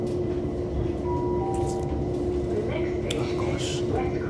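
Train pulling into West Croydon station, a steady loud rumble of rail wheels and carriage noise with faint squeals and brake hisses, continuous throughout with some background voices.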